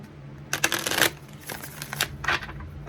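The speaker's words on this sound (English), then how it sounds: "One more shuffle." Close crisp riffling of cards being shuffled in quick bursts, with a faint steady hum underneath.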